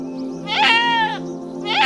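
A goat bleats in an animated cartoon: two wavering, nasal cries, the first long and loud, the second cut short at the end, with no other voices.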